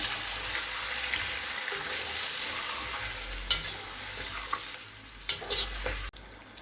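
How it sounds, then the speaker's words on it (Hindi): Chicken korma with coriander powder and coconut powder being stirred in a pot: a steady loud sizzle and hiss of frying with scraping spoon strokes and a few clinks, ending abruptly. "धनिया पाउडर, कोकोनट पाउडर, इन्हें अच्छे से मिक्स कर लेंगे"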